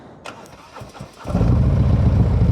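A 2020 Harley-Davidson Road Glide Special with a 131 engine cranks briefly, then catches and settles into a loud, steady, rumbling idle, close up with no talk.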